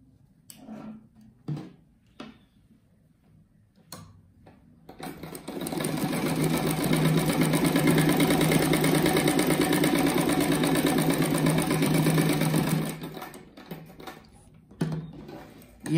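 A sewing machine runs steadily for about eight seconds while stitching a seam for a patchwork rug of squares, preceded and followed by a few soft handling clicks and taps.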